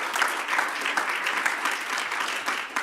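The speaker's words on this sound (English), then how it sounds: "Another round of applause for him." An audience claps steadily at a political gathering, a loud, dense round of applause that continues throughout, with no other sounds standing out.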